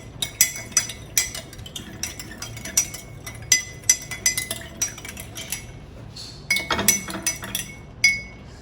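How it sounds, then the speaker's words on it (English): A spoon clinks briskly against a glass while detox lemonade is stirred, a rapid series of bright metallic taps in uneven bursts, with a short pause and then a final flurry of clinking, close and clear. "So I'm just going to give it a rough stir."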